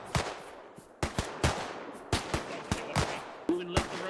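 Gunfire in the military video game Arma 3, a series of sharp rifle shots cracking out at irregular intervals, some in quick pairs, with a voice calling briefly near the end.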